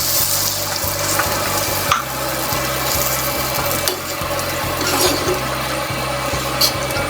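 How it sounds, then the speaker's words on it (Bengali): Milk is added to fish masala made with small roe-filled puti fish frying in a pan, producing a loud, steady sizzle with occasional stirring knocks and a low rhythmic hum underneath, no speech. "এই পর্যায়ে মাছটা কষানো হয়ে আসলে এর মধ্যে আমি দুধ দিয়ে দিচ্ছি"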